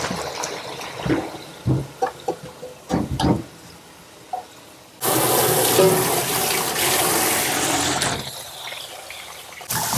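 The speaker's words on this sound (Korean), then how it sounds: "불을 끄시고 찬물에 헹굴 거예요." Cooked daylily greens are rinsed under cold running water in a stainless bowl, first with scattered splashes and handling, then with a steady, close, loud gush from the tap that runs for several seconds.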